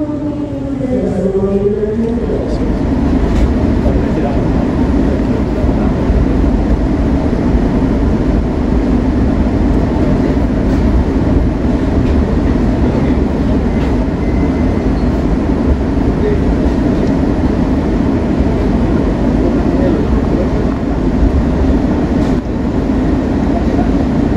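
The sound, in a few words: passenger train running on rails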